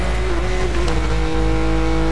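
Ford Mustang engine in Need for Speed Most Wanted, a steady loud drone with a held tone that stays close throughout, no talk over it.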